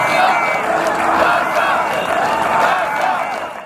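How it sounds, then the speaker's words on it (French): A large crowd chants refrains at a 2020 presidential election rally for candidate Agathon Rwasa, a dense, loud roar of many voices rising and falling in rhythm throughout. "La foule reprend les refrains et clame haut et fort que leur candidat est déjà président."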